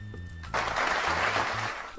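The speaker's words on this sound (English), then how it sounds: "Thanks for the clap." A short burst of applause rises suddenly out of quiet background music and holds for about a second before fading, loud and close.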